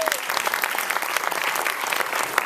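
Audience applause at a Lincoln Center screening of The Wizard of Oz, a steady, dense clapping from a large crowd that fills the whole moment without letting up.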